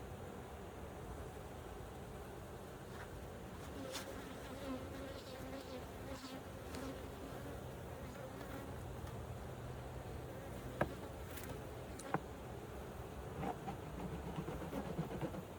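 Honey bees swarm and buzz around an old, opened beehive, a dense steady drone that fills the whole stretch, with a few faint clicks and taps of hive work in the background.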